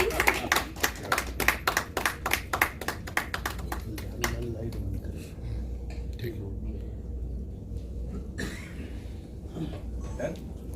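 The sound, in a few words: applause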